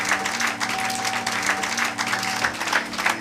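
A church congregation at a Sunday service claps together in sustained, dense applause, a steady loud wash of many hands with a faint tonal hum underneath and no speech.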